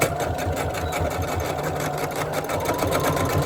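A sewing machine stitches fabric face masks, sewing pleated pieces in bulk. It runs in a continuous close mechanical whir with a rapid regular rhythm that never stops.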